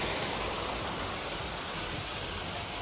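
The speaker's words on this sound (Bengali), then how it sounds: "এখানটায় ঝর্ণা আছে" A waterfall at Singapore Zoo, amid greenery, gives off a steady, full rushing wash of water that stays even and unbroken throughout, with no voices over it.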